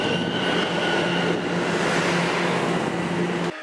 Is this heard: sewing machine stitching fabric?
no